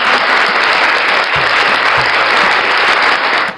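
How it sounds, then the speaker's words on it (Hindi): Loud, dense applause from a gathering closes a Hindu devotional recitation, a continuous wash of clapping that stays strong throughout before cutting off. "तालियों के साथ"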